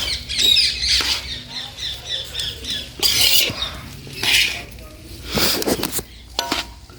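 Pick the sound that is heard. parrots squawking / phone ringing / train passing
parrots squawking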